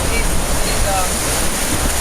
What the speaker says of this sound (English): this shows the abiotic factor of the waves and how they bash on this all day